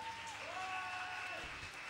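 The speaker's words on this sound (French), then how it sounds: "On les applaudit bien fort" A studio audience applauds at a Belgian televised talent-show final: a dense, steady wash of clapping that runs unbroken for the whole stretch, with faint sustained musical tones above it.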